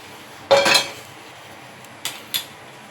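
A heavy metal wok clanks down onto a stove, followed by two lighter metallic taps a moment later.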